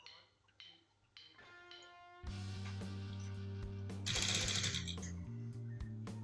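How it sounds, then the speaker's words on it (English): A sewing machine stitching shirt cuff pieces together starts after a few quiet clicks and handling sounds, then runs in a steady, close mechanical whir that speeds up and grows louder briefly before settling, without talking. "And I'm going to stitch them together."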